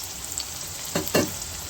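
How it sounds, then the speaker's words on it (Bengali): A short burst of potatoes sizzling in oil in a pan: an even crackling hiss close by, broken by two brief scraping stirs. "আমি আলুটা ভেজে নিই"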